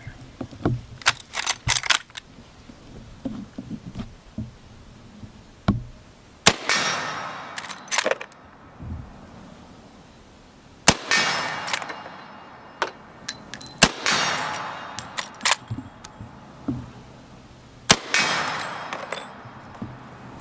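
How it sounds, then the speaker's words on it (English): Gunshots from a Marlin 1895 Guide Gun lever-action rifle, four sharp loud reports spaced a few seconds apart, each trailing a short ringing decay, with faint clanks and handling noises in between. "I'm gonna shoot 4 rounds and see if I can hit anything."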